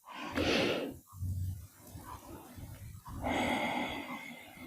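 Deep, slow breathing during a hatha yoga session, with a loud breathy exhale, short pauses and a long airy breath, heard close and alone.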